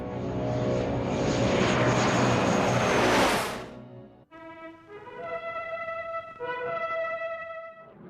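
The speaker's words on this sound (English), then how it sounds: "A new generation of Soviet MiG-15 jet fighters are paraded in front of Stalin and the public for the first time." Soviet MiG-15 jet fighters fly past at a 1949 Moscow air show, a loud roaring jet rush that swells and cuts off after about four seconds, followed by tonal, horn-like sustained notes.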